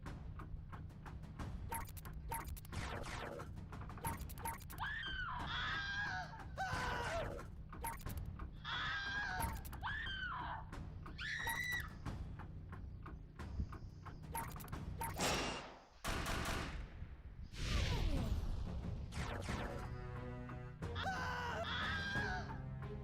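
Screams from the Jackbox Party 5 video game: repeated loud shrieks and wails come in short bursts over a low mechanical hum, with a sharp crash partway through.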